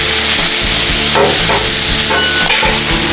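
Shrimp and fajita vegetables sizzle loudly on a Blackstone griddle, a constant close hiss broken by repeated scraping spatula strokes and clattering turns, with no talking.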